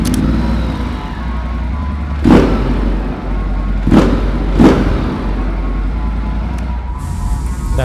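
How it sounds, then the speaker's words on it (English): A Ducati Multistrada 1260S motorcycle engine idles with a steady low rumble, then revs briefly about three times with short rising surges, close and fairly loud. "Start a Ducati."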